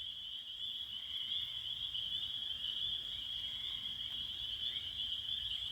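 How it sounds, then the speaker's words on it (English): Chorus frogs near a waterfall keep up a steady, dense trilling chorus that holds at an even level throughout, with no voices over it. "So those are all chorus frogs."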